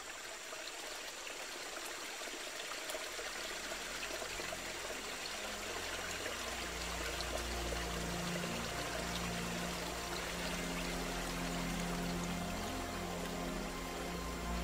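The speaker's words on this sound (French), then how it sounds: "Les eaux en crue déferlent dans la forêt." A flooding river in the Peruvian Amazon rainforest surging through the forest, water rushing steadily and loudly in a continuous churning roar that builds slightly and never lets up; no voices.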